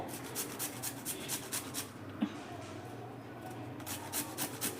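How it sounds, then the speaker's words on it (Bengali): Peeled papaya being rubbed against a grater for papaya halwa, a rhythmic series of soft rasping strokes close by, pausing briefly midway before the scraping resumes, fairly quiet. "দেখুন, এইভাবে চিপারের মধ্যে ভালো করে ঘষে নিতে হবে।"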